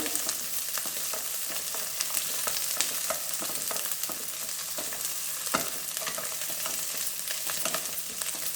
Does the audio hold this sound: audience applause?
no